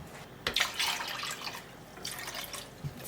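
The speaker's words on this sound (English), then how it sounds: "I'm going to put another can of hot water in here" Hot water poured from a can into a cooking pot: a splashing, trickling pour with small drips and clinks, fairly close and moderately quiet.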